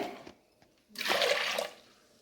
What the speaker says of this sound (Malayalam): നമ്മൾ ആവശ്യമുള്ള കുറച്ച് വെള്ളം കൂടെ വേവിക്കാനായിട്ട് വെക്കുകയാണ് കേട്ടോ കുക്കറിലാണ് വെക്കുന്നത്